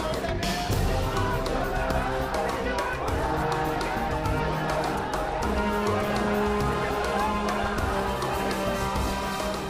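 An angry crowd protests at a hospital in Tonk, a dense, loud, continuous hubbub of many voices shouting and chattering with no pause, heard close and filling the scene.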